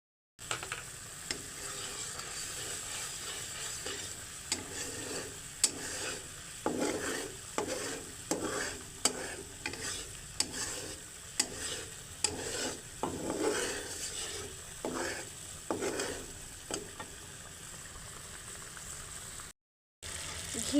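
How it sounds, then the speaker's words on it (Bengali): Milk cream heated in a wok to render ghee: a soft continuous sizzle and bubbling with repeated scraping stirs of a spatula at an irregular rhythm, fairly quiet and close. "দুধের সর থেকে ঘি তৈরি করার জন্য আমি সরগুলো কড়াইতে ঢেলে নিয়েছি এবং জাল দিচ্ছি।"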